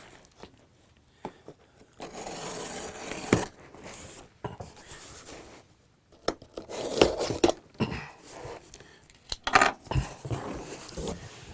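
Cutting open the cardboard shipping box of an MFJ-2104 Octopus antenna: scattered scraping, tearing and sharp snipping bursts, close and irregular, with quiet gaps between, no talking.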